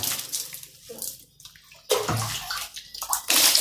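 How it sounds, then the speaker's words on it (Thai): Water pours and splashes onto mushroom growing beds in a home mushroom patch, arriving in bursts of broad hissing splash with short quieter gaps between them, close and fairly loud with no talking. "ลดน้ำนะครับลดให้มันชุ่มชื้นเลยครับ"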